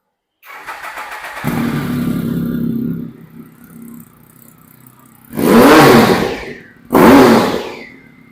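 A loud used superbike engine starts and idles, then two sharp, powerful revs blast out in quick succession, very close.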